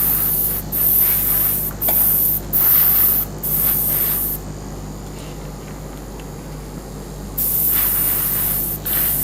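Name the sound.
airbrush spraying primer onto figures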